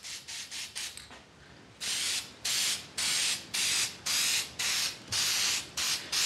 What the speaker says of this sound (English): I'm going to spray paint the part of the bottle black here.